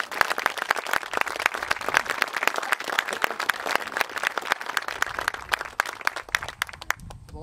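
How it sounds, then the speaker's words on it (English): Audience applause at a library groundbreaking ceremony, honoring the board members: crisp, individual claps from a modest crowd ring out rapidly and fairly close, continuing steadily for several seconds before thinning at the end. "I think they need a round of applause."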